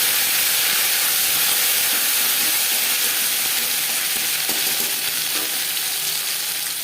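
Ginger paste and green chili paste fry in refined oil in a pan, producing a loud, continuous hissing sizzle that stays even and close throughout.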